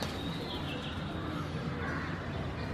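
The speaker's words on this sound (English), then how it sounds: "And you can hear more chirping." Birds call in the early morning golden light, with soft coos and chirps that seem fairly distant, set against a constant outdoor hiss of background noise.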